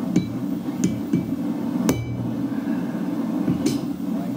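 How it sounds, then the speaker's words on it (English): A rabbeting hammer strikes a hot railway spike being forged into a knife, five sharp metallic blows at irregular intervals over a steady forge roar, close and loud, with no talking. "A lot easier now with the rabbeting hammer"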